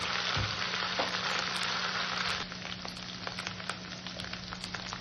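Ginger garlic paste frying with onions in hot oil for a mutton curry, a loud dense sizzle that drops to a softer steady crackle halfway through, with a brief thump near the start and no voices.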